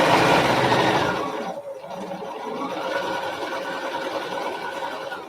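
A sewing machine stitches a quarter-inch fabric seam for a scrub cap, a close, steady mechanical whir that runs continuously and eases slightly in speed partway through.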